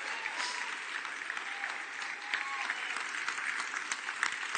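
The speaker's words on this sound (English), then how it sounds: "give a praise offering, a hand clap to the King of Kings and the Lord of Lords" Church congregation standing to clap their hands in praise, a sustained, even wash of applause heard from some distance at a low level, with a few sharper individual claps standing out.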